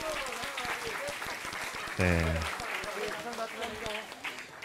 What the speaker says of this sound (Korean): 네, 여러분 박수